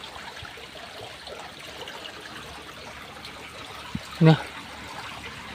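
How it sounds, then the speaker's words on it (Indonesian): A river stream flows through a cave in East Java, giving a steady, soft rushing wash throughout; a single word is spoken briefly near the end, alongside a short dull thump. "itu sungai yang menuju ke sini"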